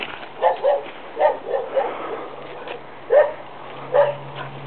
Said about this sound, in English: Neighbours' dogs.